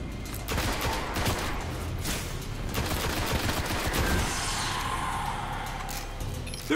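Sustained player gunfire in the video game Destiny on Xbox 360, dense rapid shots with booming impacts rolling steadily for several seconds, loud and continuous with game ambience layered underneath.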